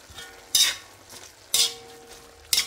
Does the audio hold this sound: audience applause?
no